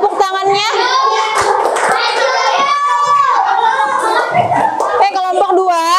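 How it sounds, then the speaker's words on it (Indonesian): Schoolchildren in a classroom clap for a fellow class group, scattered hand claps mixed with lively, excited kids' chatter and a few chuckles close by. "Tepuk tangan dong buat kelompok 4."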